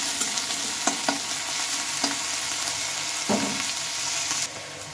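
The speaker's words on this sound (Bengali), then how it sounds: "ফুলকপিগুলোকে একটু নেড়ে চেড়ে ভালোভাবে ভেজে নিতে হবে।" Cauliflower florets frying in hot oil in a pan, a loud, steady sizzle with repeated spatula scrapes and stirring knocks, close up and without voices.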